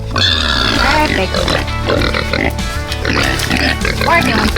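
A pig on a rotationally grazed farm pasture grunts close by, steady and loud, under a person's voice calling to it.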